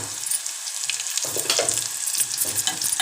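Onions with a little turmeric frying in a pan for a raw cucumber chutney, a loud continuous sizzle broken by irregular stirring scrapes and clatters, close up with no voices.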